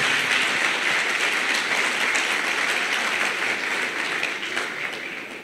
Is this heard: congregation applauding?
yes